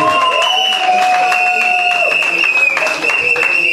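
Guests at a civil wedding ceremony in Cameroon clap and cheer before the mayor, a continuous crowd of applause with voices mixed in and a sustained tonal sound running underneath.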